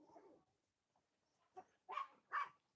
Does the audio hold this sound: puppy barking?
yes